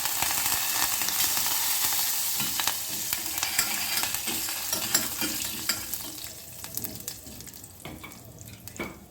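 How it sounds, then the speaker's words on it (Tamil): Steady crackling sizzle of curry leaves frying in hot oil with cumin, loud and close, with occasional stirring scrapes and no talking. "இது கூடவே கருவேப்பிலை போட்டுக்கணும்."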